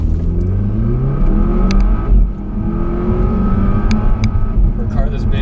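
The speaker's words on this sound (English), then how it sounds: "For a car this big, that launch was awesome." A big 2017 Volvo V60 Polestar wagon launches hard from a standstill in Sport Plus track mode with traction control off, its engine roaring loud and close with rising, sweeping revs through the run.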